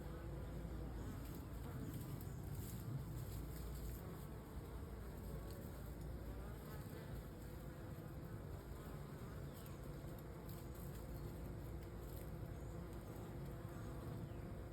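Honeybees buzz steadily around a bucket swarm trap baited with beeswax, a dense outdoor drone of many wings coming and going that holds constant throughout with no talk.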